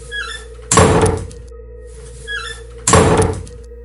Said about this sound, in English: the booming sound of a door opening and slamming shut repeatedly over and